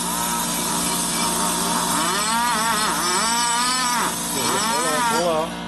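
Valve seat cutter grinding an aluminum seat in a Harley Twin Cam head, a continuous loud rasping scrape that runs throughout, with people talking over it.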